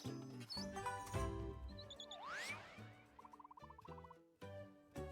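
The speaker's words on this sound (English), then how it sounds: "You found a lost glitch bird." A glitch bird in The Plucky Squire gives a string of chirpy, sweeping electronic calls and trills amid game music and effects, fairly faint overall and with no voices.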